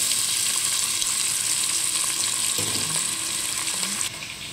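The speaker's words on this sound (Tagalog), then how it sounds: "Guys, magigisa na tayo. Ayan. Ilagay na natin. Ayan, may oil na. Ilagay ko na itong sibuyas." Onion sautéing in hot oil in a home kitchen, giving a steady, close sizzle with a few brief stirring scrapes partway through and no talking.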